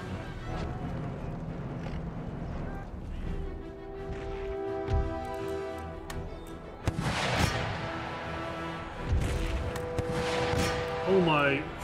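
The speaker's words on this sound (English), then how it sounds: "Howitzers and fire coming in." Howitzer artillery fire booms in the Napoleonic-era strategy game Empire: Total War, several heavy blasts landing amid battle noise, with a commander's voice talking over much of it.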